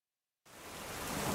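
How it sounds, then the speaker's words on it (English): After a moment of silence, driving rain starts abruptly as a steady, dense hiss that grows slightly louder, used as a sound effect in a roofing advert. "Monsoons, wild winds, roof destruction, driving rain."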